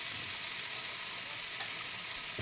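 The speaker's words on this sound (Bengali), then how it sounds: "কিছুক্ষণ আমি নেড়ে চেড়ে এই টমেটো আর পেঁয়াজ মেজে নিচ্ছি" Tomato and onion frying in a pan while being stirred and mashed, a dense hissing sizzle with a soft scrape near the end, close and steady without talk.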